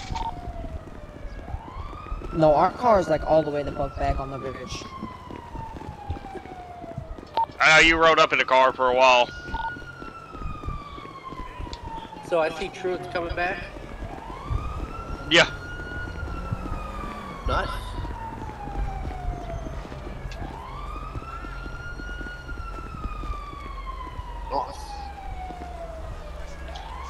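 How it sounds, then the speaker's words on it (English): Police car siren in a roleplay video game, a wailing tone rising and falling in repeated sweeps across the whole stretch, heard under conversation between players talking over it. "I think that might be my sirens, I don't know."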